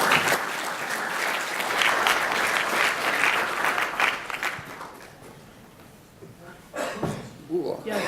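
An audience applauds to welcome Uncle Ray to the stage, dense clapping that holds strong for several seconds, then thins and fades to scattered claps with some voices.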